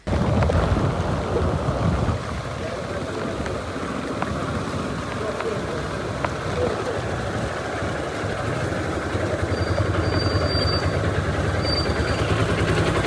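Heavy rain pours down continuously at a medical college hospital in Manjeri, a loud, dense hiss with low rumbling beneath it throughout.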